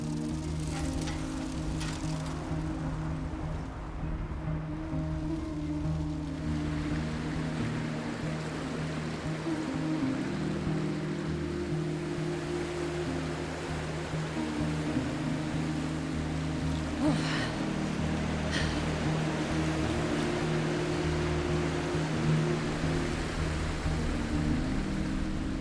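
A waterfall in the game Cairn gives a steady, faint rushing wash of falling water that continues without a break under a low ambient hum.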